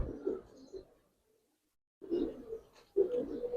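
Giribaz silver pigeons cooing nearby in short low bursts, one call, a brief silence, then two more coos close together, with no talk.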